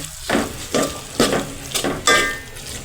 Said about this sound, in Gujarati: તેને હલાવીને મિક્સ કરી લઈશું.